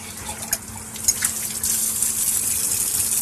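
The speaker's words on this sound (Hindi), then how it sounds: "मैं अपने बाकी बर्तन धोता हूँ।" Tap water runs and splashes during dishwashing in a household kitchen, starting as intermittent spatters and clinks, then settling into a steady gushing stream for the final half, fairly close.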